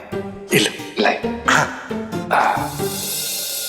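A dog barks several times in a rapid, irregular series, loud and close, ending in a burst of broadband noise.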